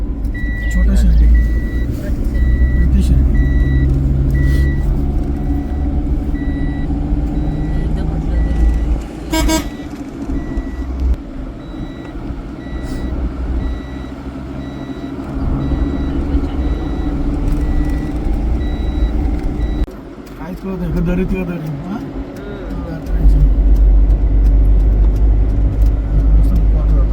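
A vehicle pulls a fallen car back up from below the road, sounding a long series of evenly spaced reversing beeps over a rumbling engine, with people talking nearby and traffic noise throughout.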